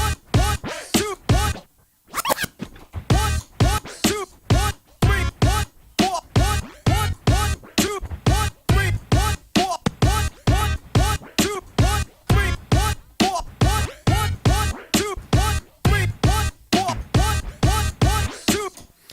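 Turntable scratching plays a chase juggle on a DJ setup, a rapid regular train of sharp cut notes with a brief gap near the start, performed deliberately with skipped in-between notes and no talking.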